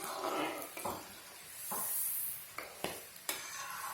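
Namkeen mix is stirred and roasted in a pan over high heat, with a soft sizzle broken by repeated scraping strokes and light clinks of the spoon against the pan, close and moderately quiet.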